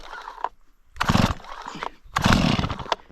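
A chainsaw is pull-started with the choke on, giving two loud rasping bursts from the starter cord about a second apart, near and harsh, with the engine catching for a moment; nobody speaks.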